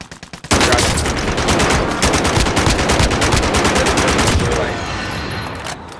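Sustained automatic gunfire in Call of Duty Warzone Resurgence, dense rapid bursts rattling close and loud for several seconds before easing slightly, with no speech over it.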